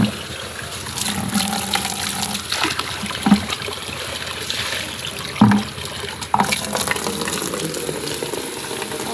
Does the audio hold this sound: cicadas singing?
no